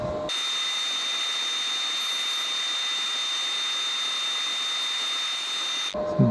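A wooden ginger jar spinning on a lathe while 80-grit abrasive sands it, giving a loud, steady broadband hiss and whine that holds constant for about six seconds and then cuts off.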